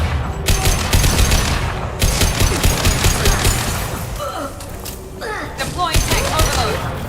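Heavy automatic gunfire in a Mass Effect 2 firefight rattles in loud, sustained bursts with crashes and booms, while voices call out over the shooting.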